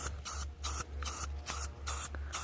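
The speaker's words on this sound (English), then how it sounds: "Light spray, and I'm just going around there" Short bursts of an aerosol spray paint can hiss in a steady rhythm, about five light sprays coating a necklace with brief pauses between, close by over a low background hum.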